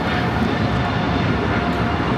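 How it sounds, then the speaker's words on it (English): American Airlines Boeing 777-300ER, flight 136 bound for London Heathrow, taking off at LAX: a steady, loud, broadband engine roar that holds without a break. "This is American Airlines 136 taking off to London Heathrow on the 777-300ER."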